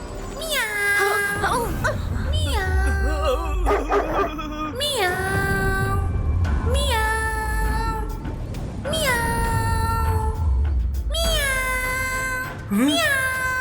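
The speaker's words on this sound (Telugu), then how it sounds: "క్యాట్ శబ్దం ఎక్కడి నుంచి వస్తోంది?" Repeated cat meows in an animated cartoon, loud and close, rising and falling in pitch, with busy background sound throughout.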